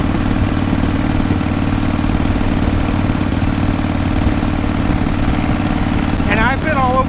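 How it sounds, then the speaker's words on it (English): A motorcycle engine, a high-mileage touring bike such as a Harley-Davidson, runs at a steady even drone while being ridden, loud and continuous, with a brief chirp near the end. "the bike that I bought is this bike I'm riding right here"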